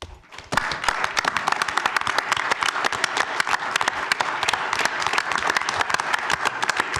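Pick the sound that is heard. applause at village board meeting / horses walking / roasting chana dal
applause at village board meeting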